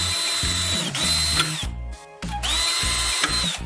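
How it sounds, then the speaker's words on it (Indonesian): A power drill bores through a small piece of metal drywall profile, its motor whining high under load in two loud runs separated by a short pause. "Ambil potongan kecil profil driwal logam dan bor dua lubang di dalamnya."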